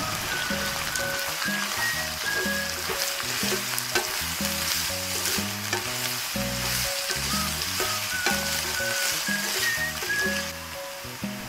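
Carrots stir-frying with sautéed garlic, onion and tomato in a pan, a steady dense sizzle with rhythmic scraping and stirring strokes, close and continuous with no talk.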